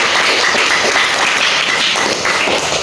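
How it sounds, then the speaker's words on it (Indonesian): Loud, close applause from a class audience at the end of a networking lesson, dense clapping filling the whole stretch without talk. "Tepuk tangan untuk kalian semua."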